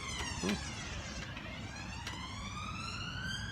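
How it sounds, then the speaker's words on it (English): An ambulance siren wails in the distance as it passes in the evening, its rising and falling tone drifting steadily over low background rumble. "I think that might be an ambulance going past"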